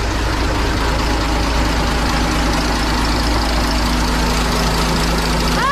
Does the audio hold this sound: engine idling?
yes